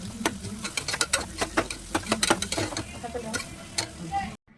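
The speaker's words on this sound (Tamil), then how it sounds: "இப்போ ஆயில் சூடாயிடுச்சு. இதில் நம்ம கட் பண்ணி வச்சுருந்த வெங்காயத்தை ஆட் பண்ணிக்கலாம். போட்டு நல்லா கலக்கிக்கலாம்." Chopped onions stirred in hot oil for a liver gravy, a steady sizzle broken by sharp, irregular scraping clicks of the spoon against the pan, close and fairly loud, ending abruptly.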